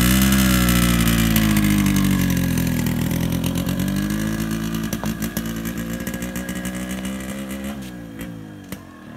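Yamaha RX100 motorcycle running on a cold morning just after a hard start, its loud engine note wavering with throttle blips before easing down and sputtering toward the end.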